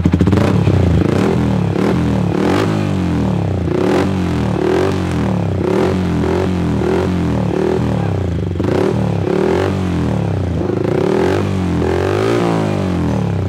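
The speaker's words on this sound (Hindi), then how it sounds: "ये है अपना यशिमुरो अल्फा, और इसका भी साउंड सुन लो, ये कार्बन फिनिश में है और आपका डीबी किलर के साथ है" A motorcycle fitted with a Yoshimura Alpha carbon-finish exhaust and dB killer revs loudly and steadily, with repeated throttle blips swelling over a continuous close engine drone.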